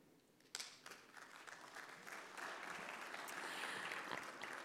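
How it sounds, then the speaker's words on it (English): Light applause from a conference audience greeting a deputy minister, faint scattered clapping that swells gradually into a fuller but still quiet ovation. "I feel like some of you are shy with that round of applause."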